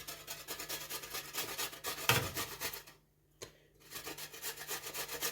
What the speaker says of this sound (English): Now I'm going to grate my ginger.